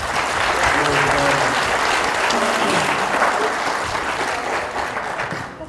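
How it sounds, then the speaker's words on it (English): An audience applauds after a performance at a Tamil Heritage Month celebration, a dense steady wash of clapping that holds for several seconds and then starts to thin out at the end. "How about another round of applause?"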